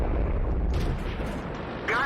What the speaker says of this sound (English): There was artillery.